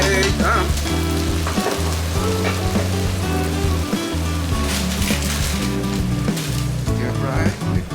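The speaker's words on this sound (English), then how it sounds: "Stir fry eggplant, bamboo shoots, and thin sliced meat." Eggplant, bamboo shoots and thin-sliced meat stir-fried in a pan, a loud, dense sizzle and crackle heard up close with occasional utensil scrapes, a voice speaking over it.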